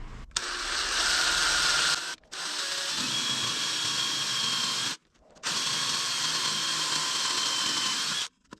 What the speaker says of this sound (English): Now it's time to drill some holes.